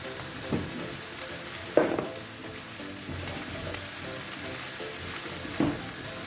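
Onions and aubergines fry in a pot and are stirred, with a steady soft sizzle and a few sharper scraping knocks of the utensil against the pot.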